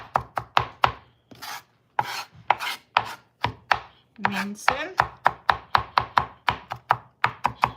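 A knife chops ginger finely on a cutting board in quick, crisp, close strokes, a rapid rhythmic run of sharp taps with brief pauses and no talking.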